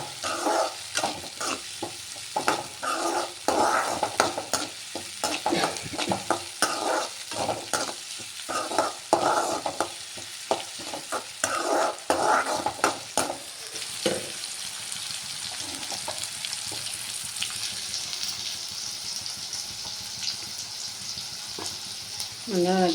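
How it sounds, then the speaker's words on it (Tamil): Ingredients being sautéed in a pan for sambar, a close, continuous sizzle with rapid, irregular stirring and scraping strokes that thin out into a steadier frying hiss in the final seconds. "நல்லா வதக்கிக்கலாம்."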